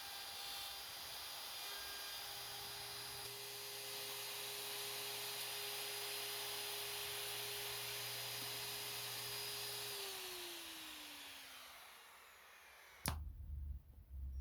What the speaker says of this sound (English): I will use a router to get rid of the bulk of the material